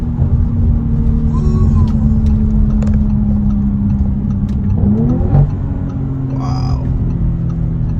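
A 2019 Audi RS5 Sportback pulls hard in first gear under full throttle, its engine a loud, steady, close rumble with rising tones, while occupants briefly exclaim over it.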